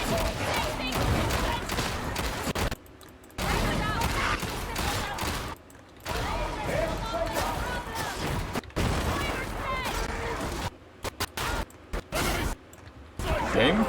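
Heavy weapon gunfire in the video game Space Marine 2, rapid bursts and booming shots stopping and starting in chunks, loud and close, with someone talking over the action.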